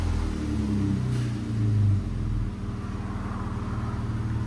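A 2014 Jeep Wrangler 3.6L V6 with a Borla ProXS exhaust idles with a low, steady rumble, a brief swell of revs partway through before settling back to an even burble.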